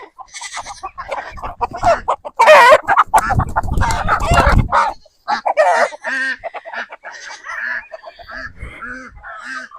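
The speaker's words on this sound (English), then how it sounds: "There's a lot of roosters out here, and they're mean." Roosters and hens squawk and cackle loudly in an agitated scuffle, with a brief flurry of flapping and harsh crowing calls up close.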